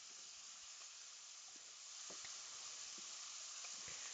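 Gravy bubbling in a skillet while a country breakfast with ham cooks, a soft, steady sizzle and hiss with small pops scattered through it, faint and close, with no talking.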